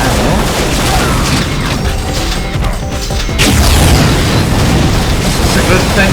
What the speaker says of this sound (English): It's a good thing that the 8-ball allows you to load quite a number of rockets.